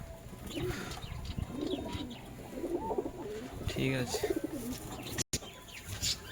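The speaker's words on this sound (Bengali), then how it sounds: "পায়রা দুটো এক জোড়া খুব সুন্দর একটা ভালো জাতের পায়রা" A pair of Giribaj pigeons, a fine breed, coo softly and repeatedly at close range under a voice speaking over them.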